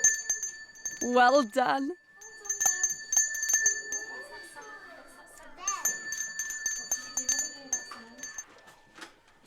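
A handbell rung in a school classroom by a child, giving repeated bright metallic clangs in bursts across the clip, loud and near, with children's and adult voices talking between the rings.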